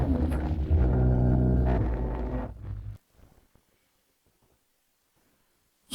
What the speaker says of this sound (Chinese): 大雪天的，怎么会打雷闪电？